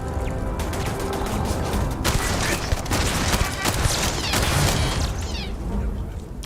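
Gunfire against a turret in the Starfield video game: dense, continuous bursts of shots and mechanical clatter with sharp impacts throughout, loud and close, with no clear talk over it.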